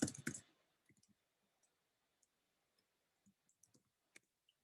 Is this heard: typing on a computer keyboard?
yes